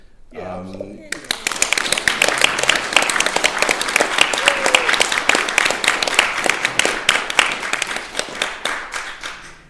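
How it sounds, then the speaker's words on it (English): Audience at a horror film Q&A in Romford applauds a performer after a brief bit of talk, with sustained, loud, dense clapping from a crowd that keeps going steadily to the end. "please give him a wee applause"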